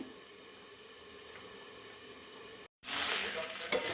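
Banana stem cooks with gobindobhog rice in a covered pot, giving a low, steady hiss that cuts off briefly, then returns as a louder, brighter sizzle with a small clatter near the end.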